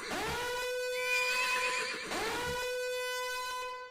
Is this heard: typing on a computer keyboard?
no